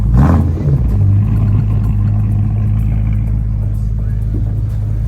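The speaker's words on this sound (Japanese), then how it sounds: "すごいマフラー。" A car's exhaust gives a deep, steady rumble close by, a brief rev at the start settling into a throaty idle.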